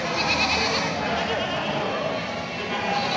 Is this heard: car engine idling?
no